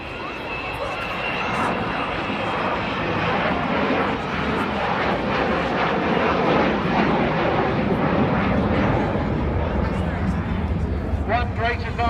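An Avro Vulcan bomber flying at the Herne Bay air show, its loud, broad engine roar sustained and swelling throughout, close and dominant over crowd ambience.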